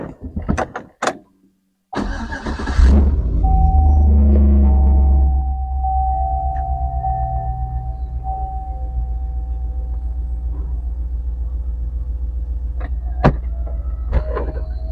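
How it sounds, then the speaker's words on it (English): Chevrolet SSR retractable hardtop convertible roof in operation: after a few clicks, an electric motor whirs loudly, then settles into a steady mechanical hum with a faint rhythmic throb and occasional clicks, close by. "A complete hardtop convertible."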